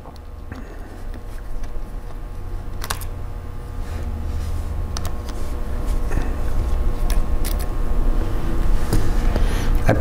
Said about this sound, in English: I'm just taking out the four screws that hold the caddy in